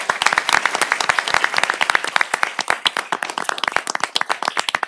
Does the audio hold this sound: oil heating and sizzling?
no